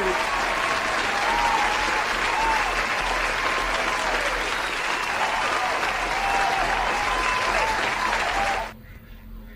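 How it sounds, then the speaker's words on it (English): A large crowd applauds and cheers in a continuous, loud roar of clapping that holds steady before cutting off abruptly near the end, leaving near silence. "And the crowd goes wild."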